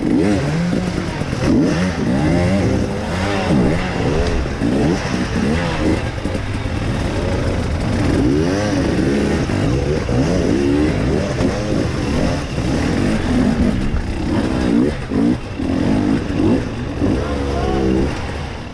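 Enduro motorcycle engine on a hard extreme enduro trail, revving and bogging in loud, close bursts with rising and falling pitch, churning on continuously with some clatter.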